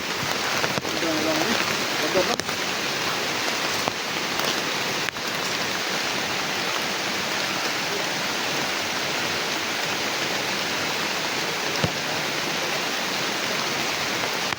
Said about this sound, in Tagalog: Lagi yung ulan ba?